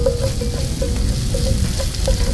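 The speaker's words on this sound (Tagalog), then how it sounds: "So gisa lang natin yung sibuyas. Tapos sunod na natin yung bawang." Onion, then garlic, sautéing in a pan at an outdoor cooking setup: a steady, dense sizzle with faint crackles, continuous and fairly loud throughout, no voices.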